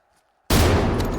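A sudden dense burst of rapid automatic gunfire in a video game esports match cuts in after near silence, loud and continuous until the end.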